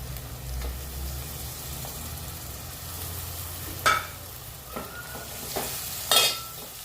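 Prawns and chopped tomato fry in a pan for an Agri Koli prawn rasa: a soft, steady sizzle with a few sharp clinks of a stirring utensil, heard alone without voices.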